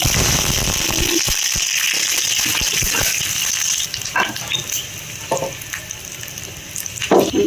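Cumin seeds and dried red chilies sizzle loudly in hot tempering oil for a lentil saaru. The hiss is dense and close, followed by lighter crackling and a few stirring knocks.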